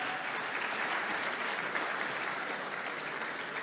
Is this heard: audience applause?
yes